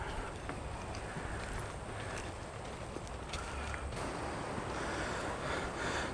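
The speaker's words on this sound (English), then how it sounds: "The wind is blowing pretty good." Wind buffets a microphone outdoors during a horseback evaluation ride, a constant loud rumbling roar with faint occasional knocks beneath it.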